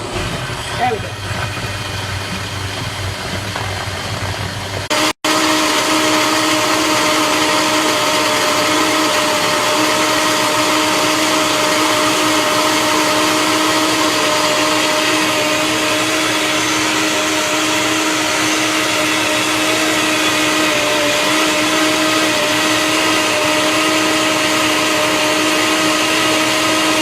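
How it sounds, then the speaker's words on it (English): A smoothie blender roars steadily at close range for over twenty seconds with a constant motor whine after a brief start, preceded by a few seconds of quieter background hum. "Of course, my blender won't start."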